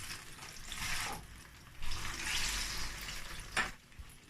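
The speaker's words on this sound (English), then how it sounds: "So I'm going to allow you to fry again till golden brown." Plantain and gizzard pieces frying in hot oil for gizdodo, a steady broadband sizzle with louder surges and a brief sharp crackle near the end, no talking.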